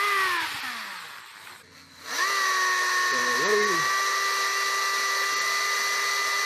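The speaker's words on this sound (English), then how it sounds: "Constant running at 16 amps for this power drill." A power drill drawing a constant 16 amps winds down, pauses briefly, then spins back up to a steady high-pitched whine that holds, with a short voice-like sound in between.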